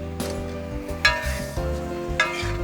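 Shrimp stir-frying in a hot wok with ginger, a little water, sugar and chicken powder, giving a steady close sizzle with periodic scraping stirs of the spatula across the pan, no talk.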